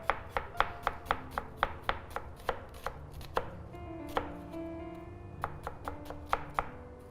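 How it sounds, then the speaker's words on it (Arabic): A knife chops onion on a board in quick, sharp, evenly spaced strikes, close and crisp, about two to three per second, with no talking. "هنقطع البصل اهوت"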